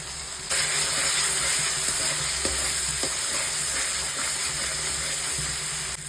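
A paste of cumin, turmeric, coriander and Kashmiri chilli powder frying in a pan, a steady close sizzle with soft scraping stirs and occasional small pops.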